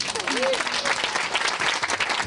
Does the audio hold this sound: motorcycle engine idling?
no